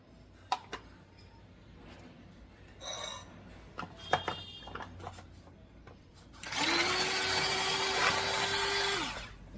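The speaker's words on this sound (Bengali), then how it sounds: "পেঁয়াজটা আর কাঁচা লঙ্কাটা করে নিন একদম জল দেব না শুধুমাত্র মানে চপ করব বাটা নয় কিন্তু এটা চপারে তো চপ হয়" A handful of small knocks and clatters as a kitchen electric chopper is set up, then its motor whirs loudly for about three seconds chopping onion and green chilli before cutting off.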